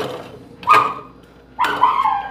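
A dog gives two separate yelping barks about a second apart, fairly close, heard outdoors in a yard during cooking, with no talk over them.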